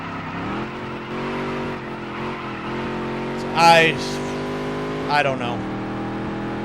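In a dirt-to-Daytona racing video game, modified race cars roar past in two quick swells of engine noise, over a steady engine drone while someone talks throughout.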